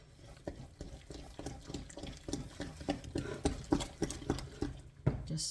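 Durum sunflower bread dough with soy being stirred by hand, a quiet series of soft, wet, irregular sloshing and scraping strokes close by with no talking.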